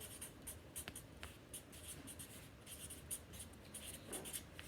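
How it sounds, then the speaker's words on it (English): A pencil writes a definition on paper, producing soft, close scratching strokes in short irregular bursts against a quiet room. "I'm just writing down that definition that I have"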